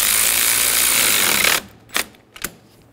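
A tool works a battery terminal bolt on a 2011-2014 Hyundai Sonata, giving a loud, continuous rasping whir that stops abruptly and is followed by two short metallic clicks, close up.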